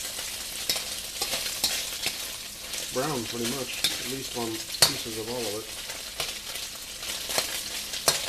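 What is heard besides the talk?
tofu frying in a pan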